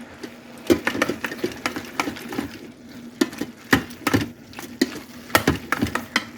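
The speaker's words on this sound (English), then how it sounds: "add an 8-ounce can of tomato sauce. Stir that in." A spoon stirs an 8-ounce can of tomato sauce into sautéed beef in a pot, making steady rhythmic scraping and wet clacking close up over a soft sizzle, with no talking.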